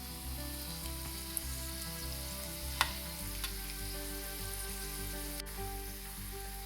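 Cashew nuts fry in hot ghee with cumin seeds and curry leaves for Kanchipuram masala idli, giving a steady, close sizzle with no voices and a couple of faint clinks.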